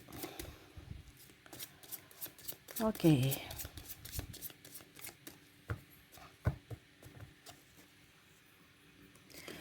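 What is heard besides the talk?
tarot cards being shuffled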